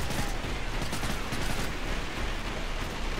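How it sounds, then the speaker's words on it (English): Sustained automatic gunfire from Modern Warfare 3, loud, dense and continuous bursts filling the whole stretch with no talk over it. "Weapon spotted. Open fire."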